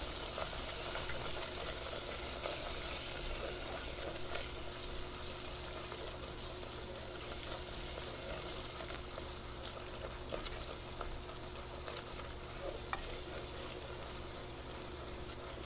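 A stick of butter melts for caramel in a pan for sticky pull-apart bread. A low, continuous sizzle runs through it, with faint scraping from steady stirring and occasional light ticks.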